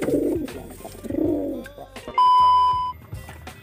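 A female breeding tinggi pigeon coos in low, rolling bursts close by, followed by a steady electronic beep-like tone and a few softer coos.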